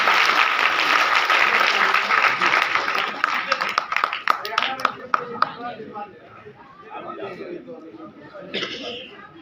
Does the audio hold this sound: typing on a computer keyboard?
no